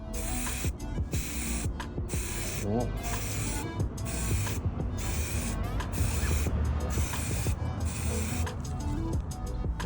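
Bursts of spray paint hiss from an aerosol can coating an assembled Halo Reach sniper rifle prop, repeated short sprays with brief gaps while someone speaks briefly.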